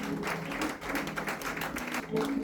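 A church congregation claps in acclaim of Jesus, with a quick burst of many hands applauding at moderate level and faint voices mixed in underneath.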